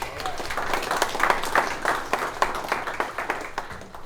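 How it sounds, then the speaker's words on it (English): Audience applause at a business academy's 15-year anniversary event, moderately loud with distinct individual claps and some crowd murmur mixed in. "Give her a round of applause."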